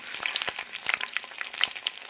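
Ten dried red chillies, cut up, fry in about 50 grams of hot oil, giving a close, busy crackle of sharp pops and sizzles throughout.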